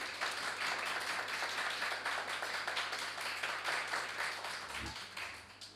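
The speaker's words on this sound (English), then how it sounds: "We think they did well enough, deserving of a round of applause." An audience applauds debate teams in a hall, a dense steady patter of many hands clapping that fades slightly toward the end, with a brief low thump near the close.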